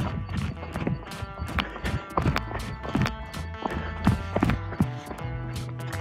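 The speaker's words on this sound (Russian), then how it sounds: "Лошади убегают." Hooves clatter in quick, uneven beats as horses run away at a distance in the Caucasus mountains near Psebay, with faint outdoor noise around them.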